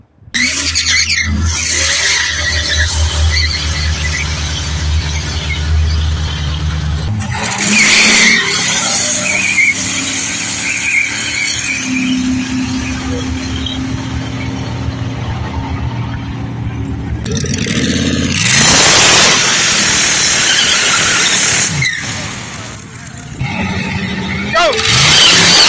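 A 1954 Chevy rat rod fitted with an LS 4.8 V8 revs loudly and rumbles near, with sharp bursts of revving, a drop to a lower drone, then another burst, while people talk over it.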